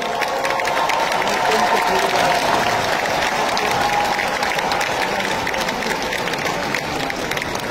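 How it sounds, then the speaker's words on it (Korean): A large crowd of party members at a political party convention applauds continuously, a loud, steady roar of clapping with some cheering throughout. "우리 당원 여러분께서 뜨거운 박수로 성원해 주실 것을 부탁드립니다"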